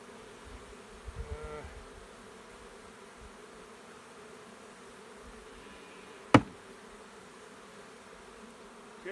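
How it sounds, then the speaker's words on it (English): Honey bees buzz around a mating nuc as a faint, steady hum close by, with a brief rustle early on and one sharp knock partway through. "All the bees are stuck to the back where they smoked them."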